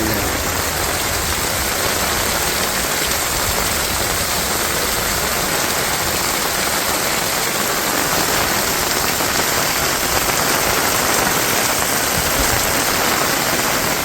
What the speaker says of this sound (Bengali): এই যে দেখেন কীরকম বৃষ্টির জল কীরকম।